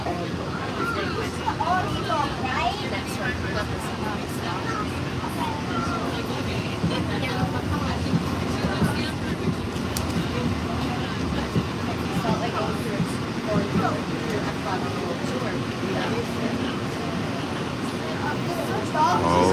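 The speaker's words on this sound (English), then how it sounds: "we're gonna hop on the Epcot monorail" Inside the Epcot monorail at Walt Disney World, a steady rumbling ride noise hums throughout, with a murmur of passenger voices and talk over it.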